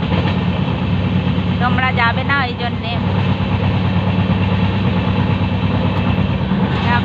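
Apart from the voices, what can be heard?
running train heard from inside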